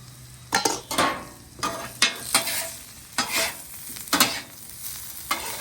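Potatoes and onions fry in a pool of oil on a flat griddle, a steady soft sizzle broken by about eight sharp scraping strokes of a spatula, with no voices.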